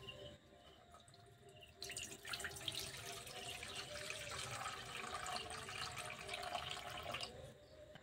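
Tamarind water is poured into a bell-metal bowl: a steady, soft splashing stream for about five seconds, faint and close, with no talking.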